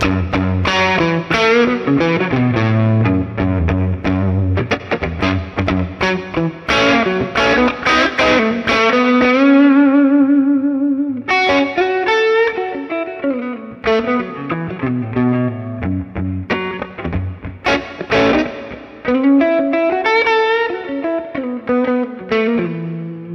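A heavily distorted electric guitar plays chords and single notes with a fuzzy, gritty tone and sustained ringing, loud and up close, without voices.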